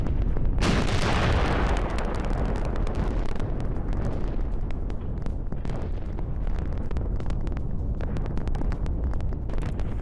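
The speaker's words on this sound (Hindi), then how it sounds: "जहां गैस स्टेशन में भीषण विस्फोट हुआ है" A sudden massive gas station explosion erupts, followed by a long, rumbling roar and crackling turbulence that continues loudly throughout.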